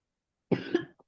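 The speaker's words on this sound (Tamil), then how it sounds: "இருமல்." A single cough, close and fairly quiet, with a short rough burst followed by a tiny trailing catch, standing alone against silence.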